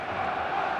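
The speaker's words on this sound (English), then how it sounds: "There's a real expectant buzz in the stadium" An expectant stadium crowd in the eFootball video game keeps up a dense, steady roar and murmur at even loudness, with no single voice standing out.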